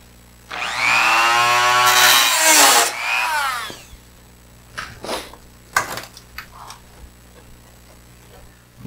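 A Dremel rotary tool cuts through heavily rusted metal, giving a loud, steady high-pitched whine for about two seconds that then breaks into short, scattered grinding bursts and clicks.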